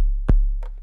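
A single short, deep 808 bass drum thump from an Akai MPC hits once, then cuts off quickly, followed by a faint brief click.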